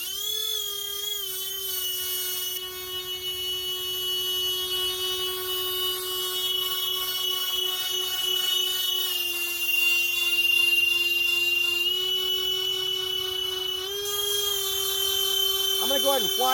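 E-flite Citation Longitude UMX RC jet taxiing on a runway, its small electric ducted fan giving a steady high-pitched whine that shifts slightly in pitch as throttle changes, with a person talking over it.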